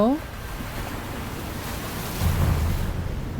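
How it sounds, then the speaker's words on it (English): A crashing-waves sound effect at a live concert in Tampere rolls in as a broad, hissing surge that swells louder toward the end. "The waves crashing."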